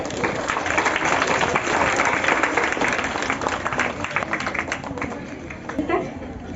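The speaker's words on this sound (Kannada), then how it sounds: "ಜೋರಾಗಿ ಚಪ್ಪಾಳೆ" A college audience at a Teachers' Day program gives loud, continuous applause, thick and steady throughout before tapering slightly, with some chatter mixed in.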